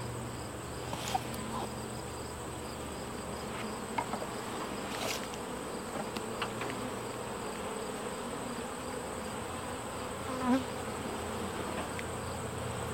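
Honey bees buzz around an open vertical beehive, a soft continuous drone of many insects with occasional louder passes of single bees close by, and no voices.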